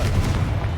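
A short, loud fire-blast explosion from the Confringo spell in Hogwarts Legacy, with a deep rumbling boom and no talk.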